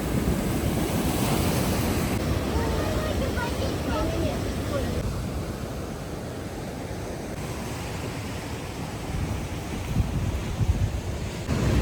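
Ocean surf breaks against an empty seaside embankment at Gáldar on Gran Canaria, a broad steady roar of rough waves mixed with gusty wind buffeting the microphone.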